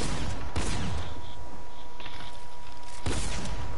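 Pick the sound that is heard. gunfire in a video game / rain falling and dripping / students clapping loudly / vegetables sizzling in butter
gunfire in a video game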